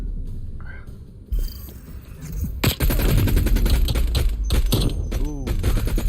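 Gunfire in Call of Duty Black Ops: quiet at first, then from about two and a half seconds a dense, loud run of rapid shots and bursts fills the rest.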